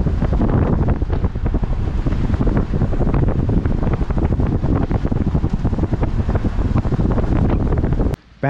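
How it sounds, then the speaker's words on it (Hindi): A loud, constant roar of rushing, falling water from a waterfall in Banswara, Rajasthan, during the monsoon fills the scene, dense and close, with buffeting wind noise and no talking. "ये सब पानी यहाँ से इकट्ठा होके और एक झरने के रूप में आगे गिरता है।"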